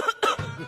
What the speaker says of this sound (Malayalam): നീ ചുമക്കുന്ന കേൾപ്പിക്കാനാണോ എന്നെ ഈ സമയമില്ലാത്ത സമയം?